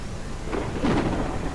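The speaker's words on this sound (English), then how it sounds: "we've got nice thunderstorms" Thunder rumbles through a steady wash of rain in the video game Surviving Ceres, a broad continuous roar that swells slightly near the middle with no voices over it.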